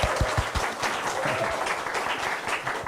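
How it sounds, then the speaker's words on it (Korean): A church congregation at a 72nd anniversary thanksgiving service claps together, a brief, steady burst of moderate applause filling the sanctuary for about three seconds. "하나님께 영광의 박수 한번 올려드립시다"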